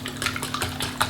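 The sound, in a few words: mixing ricotta with eggs in a bowl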